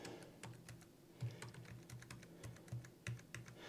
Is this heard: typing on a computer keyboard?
yes